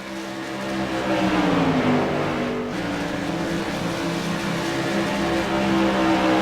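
Modified race cars battle wheel to wheel at Rockingham Speedway in a CRA Modified Madness Tour event, engines roaring loudly and continuously with pitch sweeping as cars pass close by.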